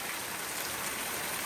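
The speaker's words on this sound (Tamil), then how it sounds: "மழை வெளுக்கு வரும்" Steady rain pours outdoors in a dense, even hiss with no pauses and no talking, a constant wash of falling water.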